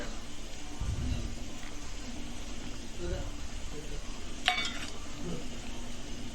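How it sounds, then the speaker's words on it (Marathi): A spoon stirs spices into crushed peanut powder for stuffed brinjal, soft scraping and occasional clinks against the bowl, faint and steady beneath someone talking. "तर अशा प्रकारे मी मसाले व्यवस्थित मिक्स करत आहे"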